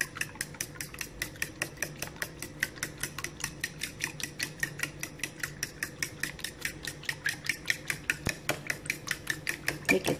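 Egg mixture for steamed egg being whisked in a bowl: a fast, steady run of close, crisp utensil taps against the bowl, repeating evenly throughout with no talking.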